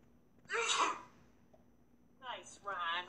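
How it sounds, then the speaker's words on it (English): A single sharp, breathy sneeze bursts out close by, followed a moment later by another person's voice. "I sneezed."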